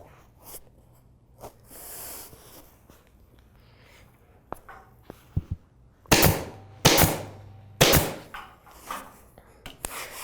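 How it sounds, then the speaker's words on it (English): A staple gun drives staples into upholstery fabric, giving a few sharp, loud snapping shots in the latter half, separated by pauses and quieter handling noise. "come back here with a staple gun and just shoot a few staples in there"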